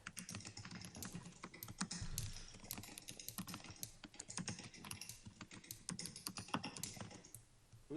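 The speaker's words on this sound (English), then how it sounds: "Who's typing?" Someone typing on a computer keyboard over an open microphone during a zoning board meeting, with rapid, uneven clusters of crisp key clicks running steadily throughout, close and clear, with no talking.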